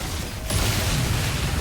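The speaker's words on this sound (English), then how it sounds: "Look at that explosion." A blast in DOOM: The Dark Ages, a sudden loud rumbling boom that breaks in after a brief lull and sustains as a dense, roaring wash of debris and mechanical noise.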